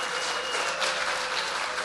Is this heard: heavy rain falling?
no